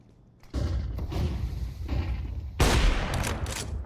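A Counter-Strike 2 flashbang grenade going off as a burst of loud, blasting gameplay noise, with a sharp bang late in the sequence over continuous rumbling and crackle.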